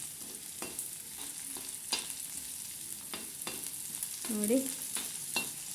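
Onions sizzle in a pan as a base for bitter gourd stir-fry, a steady close hiss broken by occasional spoon clicks and stirring scrapes, with a brief spoken word midway.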